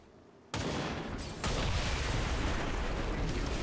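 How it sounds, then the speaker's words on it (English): The purifier blows up in the XCOM 2 video game. A sudden loud blast cuts in after a quiet start, and a second burst half a second later pushes it into a sustained, roaring rumble. "With the explosion of the purifier"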